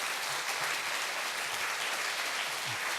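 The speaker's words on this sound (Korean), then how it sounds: "큰 박수로 축하해 주시겠습니다." A church congregation applauds a newly honored elder during a Korean service, sustained even clapping that fills the room at a constant level with no voices over it.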